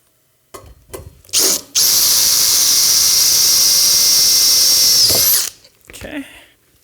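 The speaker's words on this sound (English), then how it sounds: "So we're gonna go ahead and get our second rivet attached here." A power rivet tool sets a rivet during a launcher front assembly. Brief handling knocks come first, then a loud, high whining drive holds for about four seconds and cuts off into more handling noise.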